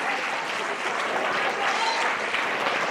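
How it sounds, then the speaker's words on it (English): Audience at a school district professionalism talk applauding, a dense steady clapping from a room full of people, sustained and fairly loud throughout with no voices over it. "Now clap it up for yourselves, everybody. Clap it up, clap it up."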